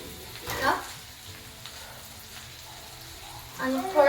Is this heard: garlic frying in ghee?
yes